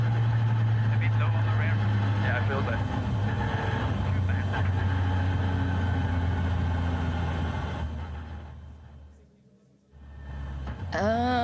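A Rally 2 car at the Safari Rally Kenya shakedown roars past with a loud, sustained engine drone that dips briefly near the end before surging back.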